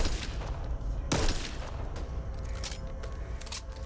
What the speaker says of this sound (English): the guy's using a sniper rifle to shoot one zombie at a time